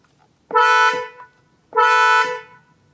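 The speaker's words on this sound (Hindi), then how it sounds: "एक और चीज जो मुझे आप लोगों को दिखानी है वो है हॉर्न का डिफरेंस।" Two long, loud car horn blasts from a Kia Seltos, each held for about half a second, separated by a short pause, close by with no other sound.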